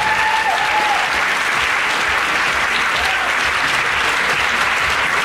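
Audience applause for contestant Eszter at a music talent show semi-final results announcement, dense sustained clapping from a full crowd, loud and steady throughout the whole stretch.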